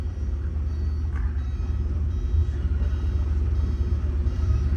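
A 1984 Porsche 944 engine idling, a steady low rumbling drone with even loudness throughout and no talk.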